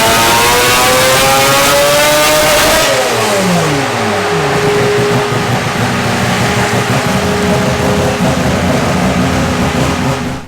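A Toyota Supra engine tuned to sound like an F1 car revs hard at high pitch, then the note drops sharply and settles into a loud, sustained roar, close and alone.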